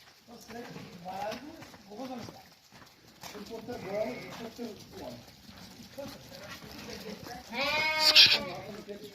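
A sheep gives a loud bleat near the end, after quieter bleats and people talking through most of the scene at a sheep market.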